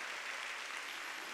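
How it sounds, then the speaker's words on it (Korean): A church congregation at a Sunday worship service claps loudly in steady, dense applause that fills the whole moment with no talking. "깨달은 사람만 박수 치라고요."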